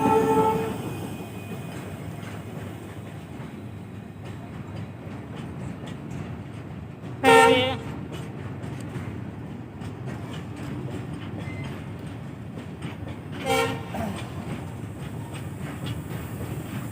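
A goods train rolls across a rail bridge, with a steady rumble and wheel clatter throughout and two short loud horn blasts, the second fainter than the first.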